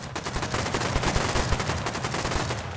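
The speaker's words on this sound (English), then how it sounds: "Looks as though he's armed with an AK. He's lighting shit up as he goes down." Sustained AK rifle fire in the video game Rust, rapid continuous shots forming a dense, loud barrage that runs the whole stretch without pause.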